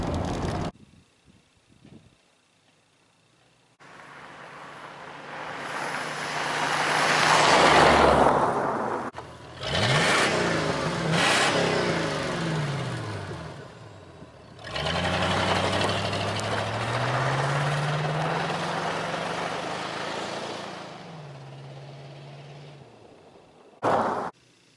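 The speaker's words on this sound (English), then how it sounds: "if you just like blip the throttle like that at a stop" A 1981 Mercury Grand Marquis V8 at a stop, its engine idling and then sharply blipped: several loud rising revs and throttle snaps that fall back to a low rumble, with wind buffeting the microphone.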